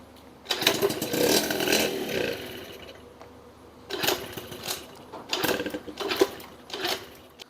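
A Honda Express SR moped with a PWK carburetor is cranked for a first start with the choke on, giving bursts of rapid mechanical chattering and sputtering in several uneven attempts with quieter pauses between them.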